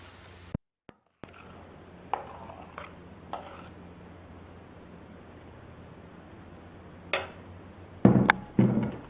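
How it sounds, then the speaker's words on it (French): Cake batter is stirred into chocolate in a bowl with a utensil. The sound comes as scattered close taps and scrapes against the bowl, sparse and soft at first, then ending in a louder burst of knocks. "Vous versez la moitié de cette pâte dans le chocolat et vous mélangez."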